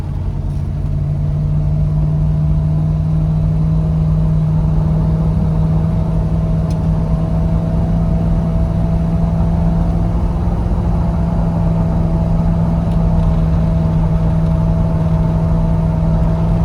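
A 1995 GMC Yukon 1500 with about 70K miles accelerating on the road, its engine droning steadily and loud with a constant rumble and road noise throughout, no talking.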